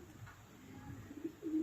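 Racing pigeons coo softly in a loft. Low, murmuring coos repeat in a steady rhythm over faint background noise, with nobody speaking.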